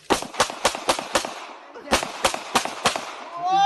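Rifle shots at a shooting range, a quick run of five sharp reports followed after a short pause by four more, loud and close, with a voice starting up at the very end.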